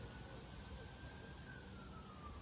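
A faint, distant siren wails steadily in the background, a thin rising and falling tone over a low, noisy hum.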